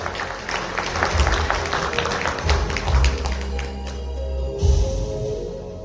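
An audience at a Democratic Party provincial convention in a hotel hall in Andong applauds, dense clapping that swells and fades over several seconds, with a murmur of voices underneath.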